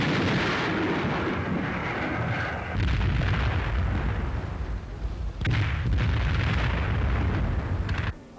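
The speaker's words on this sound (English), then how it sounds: "And now the field guns go into action to clean out that airfield." World War II field guns firing on an airfield, heavy booming shots that roll and rumble continuously, with loud close blasts and long echoing decay, no voices heard.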